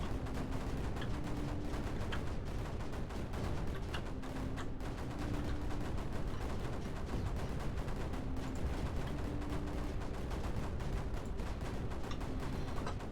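Missile weapons fire in the strategy game Creeper World 4 as a dense, continuous rumble of small overlapping blasts and crackles, steady and fairly loud across the whole stretch with no one speaking.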